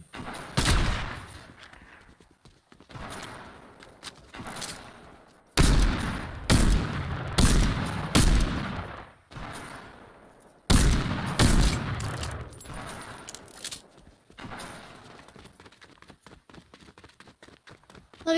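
Gunfire in a Bed Wars video game, with sharp bursts of rapid shots in clustered volleys, loud and close, separated by quieter stretches with footstep-like patter.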